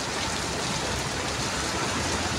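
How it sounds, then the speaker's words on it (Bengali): Heavy rain pours down in Dhaka, a loud, unbroken wash of broadband noise with no distinct drops or gaps, filling the whole scene. "অনেক বৃষ্টি হইতেছে।"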